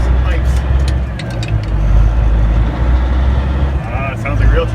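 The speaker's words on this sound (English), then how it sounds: "see how this truck sounds with some pipes" A loud, deep engine of a Peterbilt 359 truck with straight pipes rumbles and idles up close, throaty and steady, with a brief rev.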